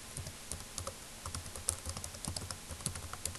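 Fingers type on a computer keyboard in short irregular bursts of crisp clicks, close and fairly quiet, with no talk.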